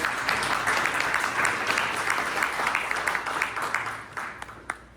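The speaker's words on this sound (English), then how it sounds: "We can give them all a round of applause." A crowd at a City of San Fernando community forum applauds panelists and staff: steady, dense clapping at moderate loudness that continues for the whole stretch and thins slightly near the end.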